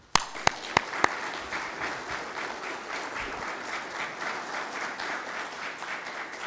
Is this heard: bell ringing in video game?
no